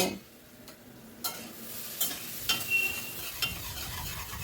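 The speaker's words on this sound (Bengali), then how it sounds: "নেড়ে নেড়ে ভালো করে মশলাটাকে কষিয়ে নিচ্ছি।" Spice masala for restaurant-style dal tadka is stirred and fried in a pan, with soft scraping strokes and a few sharper clinks over a steady low sizzle, close by with no talk.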